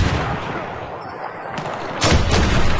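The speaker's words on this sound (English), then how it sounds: "I actually shot an RPG." RPG rocket launcher fired in the video game Battlefield, a loud blast-like boom amid dense in-game noise, with a second heavy burst near the end.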